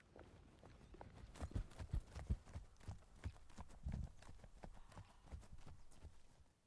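A horse walks with steady clip-clopping hooves, a run of distinct hoof strikes heard fairly close, with a few heavier thuds mixed in.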